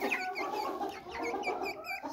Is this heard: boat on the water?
no